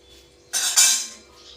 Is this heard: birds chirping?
no